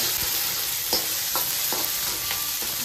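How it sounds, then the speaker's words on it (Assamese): Fish with green chillies sizzles steadily in a hot pan of oil, with a few soft scrapes of a spatula as it is stirred, close and continuous with no voices. "জলকীয়াখিনি দি দিম আৰু অকণমান ৰঙচুৱা হোৱালৈকে ফ্ৰাই কৰিম"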